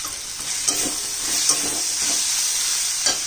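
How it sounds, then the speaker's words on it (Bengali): Thick chili paste sizzles and fries in a curry while a spoon stirs it through, with scraping strokes recurring about every second over a steady crackle. "ছোটো টেবিল চামচের 1 চামচ লঙ্কা বাটা দিলাম"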